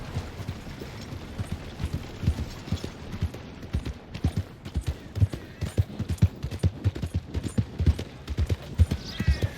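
Horse hooves clop in a quick, steady galloping rhythm in Red Dead Redemption 2, close and moderately loud over a low rumbling background.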